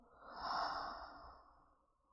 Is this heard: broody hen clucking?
no